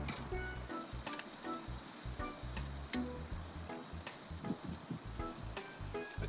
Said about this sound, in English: See, we got a little sizzle.